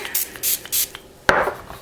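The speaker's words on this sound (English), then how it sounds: "So I'm gonna give it another spray." Several short hissing spray bursts from a spray bottle misting melt and pour soap in a loaf mold, three quick puffs followed by a longer, louder spritz, close up with no talking.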